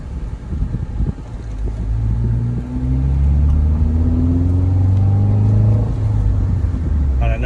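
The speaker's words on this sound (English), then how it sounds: "you can really hear that exhaust when you wind out the gear just a little bit." A 2009 Subaru Impreza wagon with a five-speed manual gearbox, its exhaust droning loudly and rising in pitch as the engine winds out through a gear, steady and close throughout.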